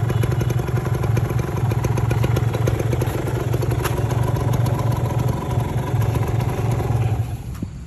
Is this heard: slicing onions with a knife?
no